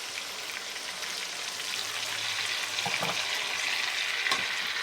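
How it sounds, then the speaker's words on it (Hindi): Garlic and ginger paste fries in a karahi for a street-style chicken karahi, giving a steady, close sizzling hiss with faint stirring scrapes throughout and no talking. "अब इसको भूनेंगे तकरीबन 2 मिनट भून के फिर इसमें टमाटर रखेंगे।"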